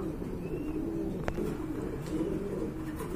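At a Bangladeshi pigeon market, caged pigeons, including Bald Head Art Angel birds, coo softly among a steady crowd of market noise, with one sharp click partway through.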